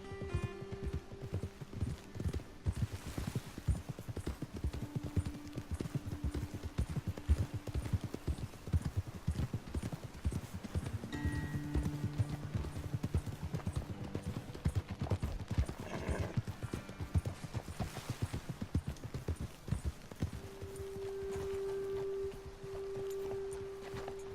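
Horse hooves clip-clop steadily through most of the stretch in Red Dead Redemption 2, with an occasional whinny and low sustained game music tones beneath; the hoofbeats stay close and continuous, with no talk.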